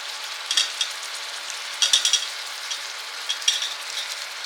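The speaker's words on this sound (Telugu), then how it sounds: "ఈ ఆయిల్లోనే బాగా ఫ్రై అవ్వాలండి, బాగా ఫ్రై చేసేద్దాం." Soya chunks coated in masala fry in hot oil inside a pressure cooker, giving a steady close sizzle with a few brief bursts of stirring scrapes.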